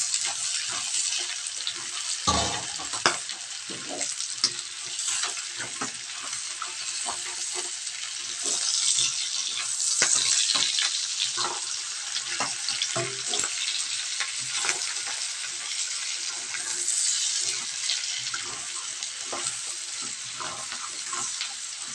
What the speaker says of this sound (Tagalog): Pag brown na yung bawang, ilagay na natin yung sibuyas.